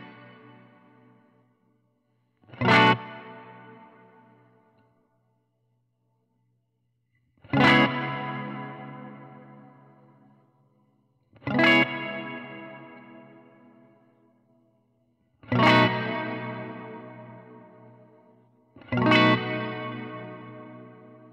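An Earthquaker Dispatch Master delay and reverb pedal with modulation processes five separate electric guitar strums, each a sharp attack that blooms into a long, wavering, echoing tail fading toward silence before the next.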